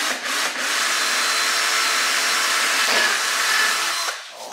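A drill bores through an acrylic sheet for a solar air heater, giving a steady, harsh whirring grind that holds for about four seconds, close up, before it stops.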